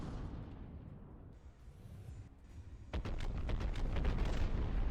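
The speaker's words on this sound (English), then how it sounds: "Now a lot of our gunfire is super inaccurate." Naval guns fire in a video game sea battle: a quieter rumbling stretch, then a rapid volley of sharp booms rolling into sustained, loud explosive thunder.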